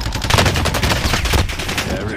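Rapid automatic gunfire in Call of Duty Warzone on Rebirth Island, a dense burst of close, loud shots rattling continuously for a couple of seconds.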